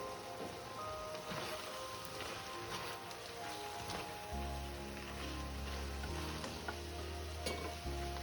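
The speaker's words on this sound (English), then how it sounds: "and then turn down to low heat. Let it simmer for about 5 minutes." Sauce simmers in a pan on low heat while Chinese New Year dishes are cooked, giving a steady soft bubbling sizzle with occasional light clinks, fairly quiet throughout.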